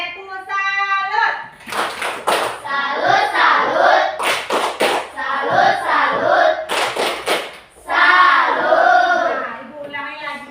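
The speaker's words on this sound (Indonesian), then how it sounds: "Tepuk salut." Schoolchildren in a classroom clap a rhythmic salute together, bursts of brisk hand claps alternating with their chanting voices and a teacher's speech.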